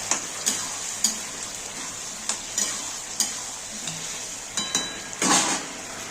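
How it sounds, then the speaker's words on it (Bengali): Chickpeas stirred into cooked-down masala in a pan sizzle steadily, with a spoon scraping and tapping the metal in regular strokes and a louder clatter near the end. "এবার আমি ছোলাগুলো দিয়ে দেব। আর ভালো করে কষিয়ে নিতে লাগবে।"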